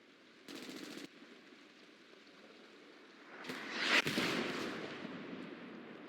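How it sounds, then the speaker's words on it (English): Artillery fire landing in a multiplayer war video game: a brief rattling burst of gunfire early on, then a swelling roar of impacts peaking in a heavy explosion and lingering rumbling debris noise, with no talking. "Artillery landing a little off their mark."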